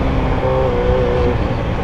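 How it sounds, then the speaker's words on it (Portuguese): A car accelerates away on a city street near a broken traffic light, its engine a steady, loud drone with a faint rising tone, heard close by from a motorcycle. "Ó, o maluco sai acelerando."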